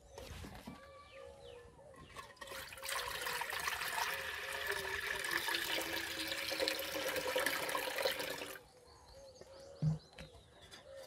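Water poured from a tap into a cooking pot to heat, a steady splashing rush for several seconds that then stops, followed by a faint clunk, moderately quiet and close.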